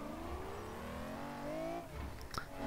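An Aston Martin car engine in the video game James Bond 007: Blood Stone hums and rises in pitch as it accelerates, steady and fairly close, with a brief clatter near the end.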